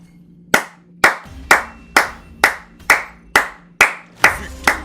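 Hand clapping, nine sharp, loud claps in an even, slightly quickening rhythm close to the microphone, alone without talk.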